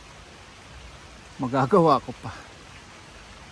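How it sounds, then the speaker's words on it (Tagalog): Steady soft hiss of summer rain falling in Poland throughout, with a brief spoken phrase over it in the middle. "umuulan pa rin"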